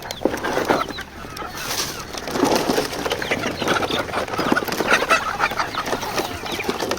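Poultry hens crowd in to feed on azolla, their busy, overlapping clucks and squawks rising and falling nearby in a continuous chorus.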